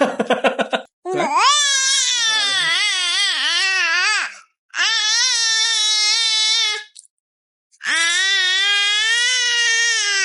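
A baby cries and shouts loudly in long, wavering wails, broken by two short pauses, close to the listener.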